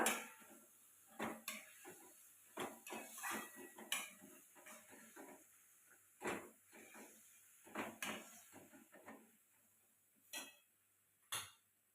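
Spring onions being mixed into eggplant bharit in a pan with turmeric, heard as sparse spoon clacks and scrapes against the pan over a soft sizzling hiss, fairly quiet and irregular.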